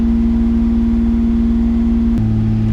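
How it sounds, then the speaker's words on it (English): A Mazda MX3 with a K8 V6 engine sits at a high idle, a loud steady hum with a constant drone that drops abruptly to a lower pitch near the end. "As you can see, we got a really high idle."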